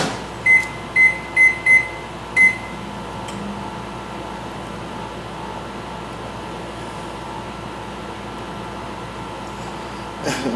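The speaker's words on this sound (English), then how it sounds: "Put it in the microwave for about 20 seconds" A microwave oven runs with a steady low hum while heating bread, opening with a quick series of five electronic beeps and then a long, even drone, ending with a faint click.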